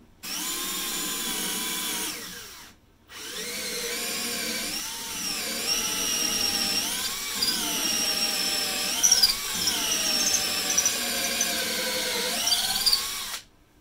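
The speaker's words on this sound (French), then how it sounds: "Donc perçage, je me mets en deuxième vitesse, 1300 tours" A Bosch Pro GSR 12V-15 cordless drill in second gear at 1300 rpm whines steadily at high speed, pausing briefly near the start, then running long with shifting pitch as it bites into material.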